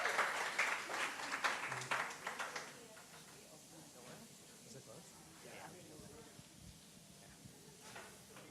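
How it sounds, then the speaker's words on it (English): A crowd at a hotel event in downtown Phoenix bursts into applause: a loud wash of clapping over the first few seconds, then fading to scattered claps as someone talks over it. "Give yourself a hand of applause for how great this crowd is"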